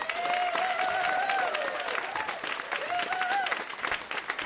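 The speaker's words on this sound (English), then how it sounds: "please give a big round of applause for Prahlada Rastogi" An audience applauds steadily and loudly for a young student at a climate event, a dense continuous patter of clapping with a few cheers and whoops rising above it.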